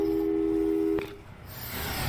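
Telephone busy signal from the video game Portal 2, a steady pulsing electronic tone that plays clearly for about a second, then breaks off into a faint hum.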